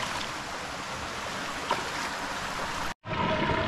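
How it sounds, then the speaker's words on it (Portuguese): River water rushes and swirls steadily in a whirlpool beside a rocky trail, a continuous broadband churning that breaks off briefly near the end before resuming. "O redemoinho na água."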